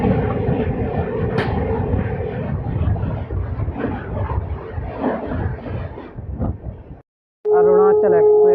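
Sealdah Rajdhani express train rushing past at close range during a back-to-back crossing on the Tundla–Delhi line, a loud steady rumble with rattling wagons that drops out briefly before a horn-like tonal blast near the end.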